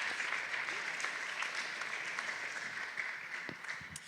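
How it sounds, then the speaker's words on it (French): An audience at a French round-table discussion on local agriculture and climate applauds steadily, a dense, even wash of clapping that fills the room without pause and with no clear speech over it. "vous pouvez l'applaudir avec entrain"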